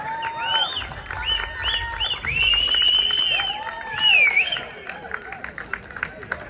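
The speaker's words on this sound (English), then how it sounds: "give her a big round of applause" Applause and cheering from a crowd at the closing ceremony of a volleyball and throwball league, clapping swelling and fading under a loud announcer's voice and whooping.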